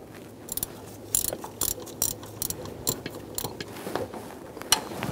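Ratchet clicking in quick bursts while tightening the camshaft tensioner bolt on a Chevrolet Silverado 5.3L V8, close and fairly loud, with short pauses between strokes.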